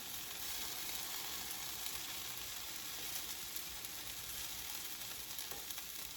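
Eggs and vegetables sear in a hot pan for breakfast, giving a steady, dense sizzle that holds at an even level throughout with no talking.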